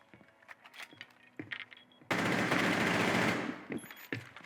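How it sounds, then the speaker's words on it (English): Rapid automatic gunfire through a wall in Rainbow Six Siege, a loud unbroken burst of about a second and a half set between scattered game clicks, footsteps and thuds. "now he has a reason to just run at them and shoot them through the wall"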